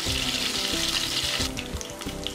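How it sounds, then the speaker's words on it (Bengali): Cut taki fish fry in hot oil with a loud, steady crackling sizzle and a few stirring knocks, heard up close with no talking. "মাছগুলোকে আমি কাট করে দিয়েছি যাতে করে মাছের পেট এবং ফোটা খুব ভালো করে ভাজা হয়"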